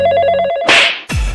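A mobile phone ringing in a Hindi cartoon; a short electronic ringtone plays loudly for about half a second, then is cut off by sharp crashing noises.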